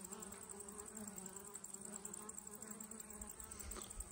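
Honey bees flying in to a hive entrance carrying pollen, a faint, steady buzzing hum of many wings close by, with no voices.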